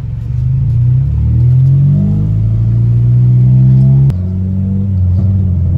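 A car engine fitted with an HKS exhaust revs up close, its pitch climbing and holding at a loud rumble around 2,000–2,500 RPM, then dropping abruptly before settling into a lower idle.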